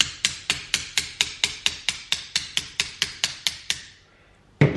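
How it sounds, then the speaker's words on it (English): Light metal taps of an 8mm socket driving a piston pin out of a Honda Grom engine: about fifteen sharp, evenly spaced close strikes, then a pause and a single louder knock at the end. "I'm just going to take an 8mm socket and just give it a couple taps"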